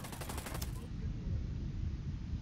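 A short, fast burst of automatic gunfire in the video game Ghost Recon Wildlands fades out quickly, leaving a low rumbling game ambience.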